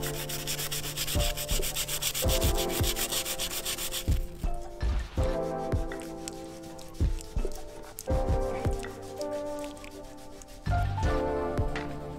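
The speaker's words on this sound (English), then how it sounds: "I'm actually trying to sand down this" Someone sands on a sailboat in bright March sunshine: rhythmic back-and-forth rubbing strokes, close and steady, broken by brief pauses.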